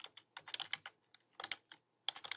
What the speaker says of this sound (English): you can type any text that you want.